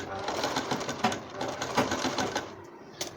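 A sewing machine runs steadily, stitching fabric for a prayer dupatta, its rapid mechanical chatter continuous with a few louder thumps and a short pause near the end, while someone talks over it.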